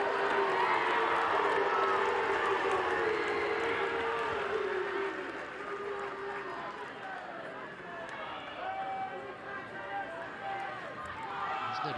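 A women's FA Cup football crowd at Arsenal versus Chelsea swells in a loud, sustained roar after a yellow card, then fades to a lower murmur, with commentary talking over it.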